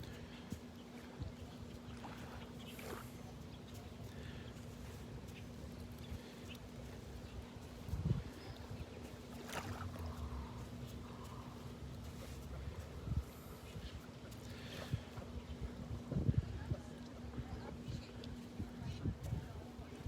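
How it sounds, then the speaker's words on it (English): Wind buffeting outdoors on a beach in North Naples, Florida, with low rumbling gusts and a steady hum, occasional brief thumps, faint and continuous over twenty seconds. "It is windy here."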